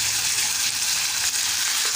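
Chicken frying in oil with ginger, garlic and cumin, giving a loud, steady, close hiss of sizzling with no speech.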